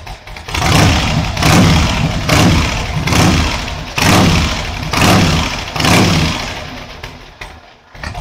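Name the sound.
Harley-Davidson Ironhead 1000 engine revving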